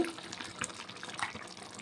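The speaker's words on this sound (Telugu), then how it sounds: "ఇప్పుడు కొంచెం వాటర్ వేసుకుందాం కొంచెం వాటర్ సరిపోతాయండి" Water splashes briefly into a prawn curry in the pan, a short faint pour with light liquid trickling and bubbling, alone without speech.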